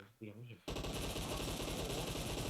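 A short voice gives way to a sudden, loud burst of rapid automatic gunfire from an AI bot in PUBG Mobile, continuous and close for the remaining two seconds.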